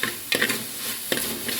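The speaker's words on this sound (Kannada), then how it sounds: "ಚೂರು ಫ್ರೈ ಮಾಡ್ತದ" Tomato frying in a clay pot, a soft continuous sizzle broken by two brief scraping stirs, heard close with no voices.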